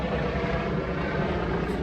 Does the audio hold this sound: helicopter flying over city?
yes